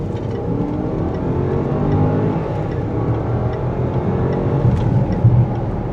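Range Rover SUV accelerating hard, a steady loud engine roar with low rumble holding throughout at close range, with no talking.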